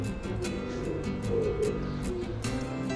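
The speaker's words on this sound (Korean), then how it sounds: "비둘기 소리가 계속 나네." Pigeons coo softly and repeatedly inside a botanical garden greenhouse, low throaty calls over a steady background hum, with faint ticking and clicks now and then.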